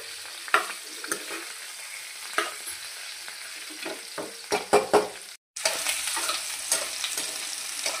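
Bitter gourd pieces fry and sizzle steadily in a pan for ulikaram, with a few sharp clinks and stirring bursts and a brief dropout near the end before the hiss resumes.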